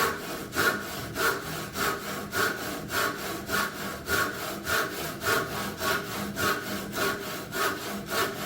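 Wood being cut with a hand saw: steady, rhythmic rasping strokes, about two per second, close and clear throughout, no talking.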